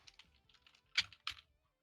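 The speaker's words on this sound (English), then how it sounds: "I also like getting those things where it makes it sound like a typewriter." Soft, quick computer keyboard typing standing in for a typewriter, a scatter of light clicks followed by two louder, sharper bursts of keystrokes, fairly close and alone.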